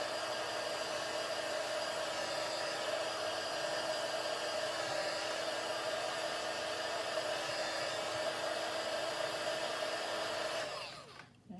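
A heat tool blows hot air to dry a sheet of homemade vellum, a loud steady whirring roar held for about eleven seconds before it switches off, close up and alone.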